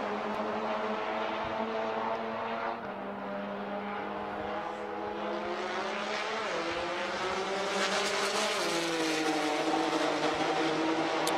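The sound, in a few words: Life Motorsports GTR race car driving at Circuit of the Americas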